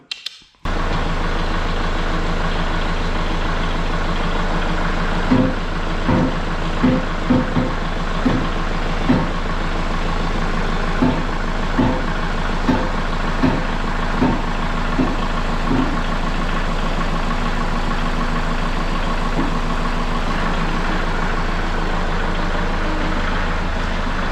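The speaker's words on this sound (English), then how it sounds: "makes it so much easier having the tractor to push her up" A tractor engine pushing a Porsche Boxster, a loud continuous close diesel drone with a series of regular light knocks partway through, no talk.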